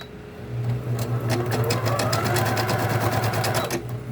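A Bernina Deco650 embroidery machine stitches rapidly, its motor hum rising after a brief start and a fast, even needle clatter running steadily until it slows at the end.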